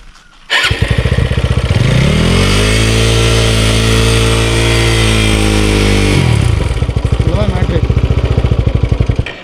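A motorcycle engine with its throttle locked open roars loudly up close. It climbs to a sustained high rev for several seconds, then drops back to a pulsing, chugging lower speed.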